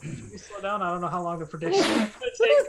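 A single sharp, loud human sneeze bursts out right after a stretch of close conversation, with voices heard before and after it.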